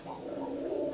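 Pigeons coo steadily and close by at a busy pigeon market, red Bombay pigeons among the birds on sale, a low continuous murmur of overlapping calls with no gaps.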